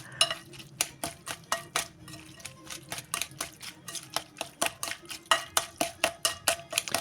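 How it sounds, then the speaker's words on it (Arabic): Vegetables for Tunisian oven kaftaji are cut and mixed, making a fast, regular run of sharp clicking chops that continues steadily at close range. "نقعدو نقصو هكاكا في الخضرة الكل حتى لين تتخلط مليح وتتقص بالقدا"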